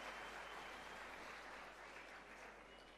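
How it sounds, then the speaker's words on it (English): Sustained applause from an audience at a formal presentation event, steady and dense throughout, fairly distant with no voices over it. "Let us give him a big round of applause for this wonderful presentation and interaction."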